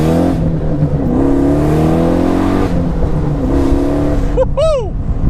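A 700 hp Pontiac Solstice with a 550-horsepower motor accelerating hard, a loud close engine roar climbing through gears with rising pitch, ending in sharp high revs, and a voice speaking partly over it.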